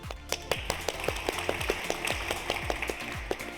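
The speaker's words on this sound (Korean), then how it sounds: "큰 박수로 오늘 이익주 교수님의 강의 청해 보도록 하겠습니다" Audience clapping at a history talk concert in a hall, heard as a steady, evenly spaced patter of sharp claps with low thumps beneath, moderately loud and without speech.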